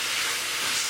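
Ground beef cooks in a pan over a high gas flame, producing a brief, even hiss of frying that holds steady and fairly soft throughout.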